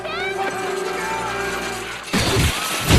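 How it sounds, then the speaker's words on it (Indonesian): Thick glass falls and shatters in a film scene: a voice sounds over a tonal backdrop, then a sudden loud crash of breaking glass with scattered, clattering debris. "itu Tim tewas tertimpa kaca tebal"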